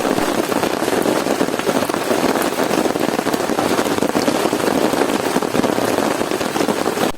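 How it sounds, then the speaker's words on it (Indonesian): Heavy rain pours down at a campsite, a dense, loud, steady hiss of drops drumming on surfaces close by, unbroken for the whole stretch with no voices. "jika hujan deras seperti ini"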